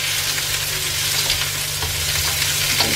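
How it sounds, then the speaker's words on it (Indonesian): Pork ribs stir-fry in a hot pan for Chinese-style cooking, giving a steady, dense sizzle with scraping stirs throughout, close and continuous with no talking. "Kita gongsong sampai dia harum."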